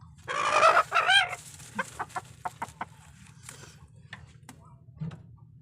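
A domestic hen being set on a clutch of eggs for brooding gives a few loud, close clucks and squawks, followed by a series of softer, evenly spaced short clucks, with no talking.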